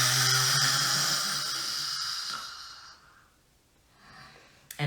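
A deep breath released through an open mouth during a guided new moon breathing practice, a long loud close exhale that fades gradually over several seconds before a sharp new intake at the end.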